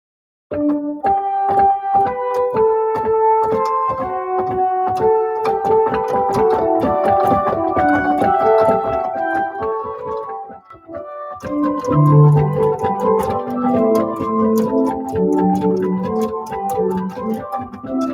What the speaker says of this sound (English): So an exposition of a fugue then could sound like this.